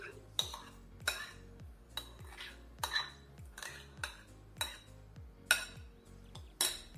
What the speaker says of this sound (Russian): Замешиваем тесто.